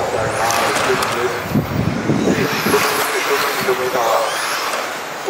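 Small model touring cars racing at a German championship final in Braunschweig: a steady, loud, high-pitched motor whine with rising and falling passes, continuous throughout, with voices talking over it.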